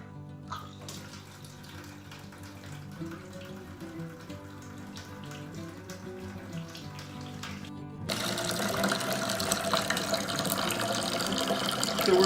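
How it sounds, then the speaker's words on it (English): Wort draining from a mash tun into a fermentation bucket for rye whiskey, a steady close splashing pour that grows louder and fuller partway through. "we're draining the out of the mash tun into the fermentation bucket"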